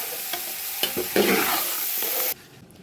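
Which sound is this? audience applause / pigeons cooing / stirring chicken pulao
stirring chicken pulao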